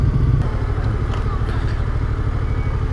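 Yamaha XSR700 motorcycle from 2016, pulling hard from about 4000 rpm to overtake, its engine a steady loud drone with wind rush, recorded close on a test ride.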